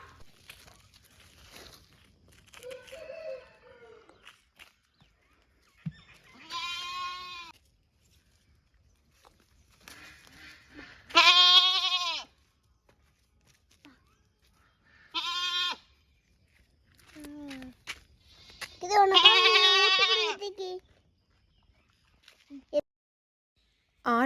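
A young goat bleats several times in separate wavering cries spread over a quiet stretch, some loud and close, others fainter, with light rustling and footsteps between calls.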